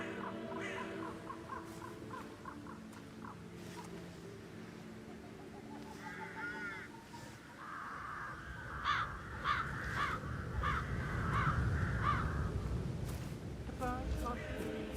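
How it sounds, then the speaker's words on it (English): Crows cawing outdoors, several harsh repeated calls at moderate distance, irregular in rhythm and rising in density toward the end over a steady background rumble. "I'll never get rid of those stupid birds."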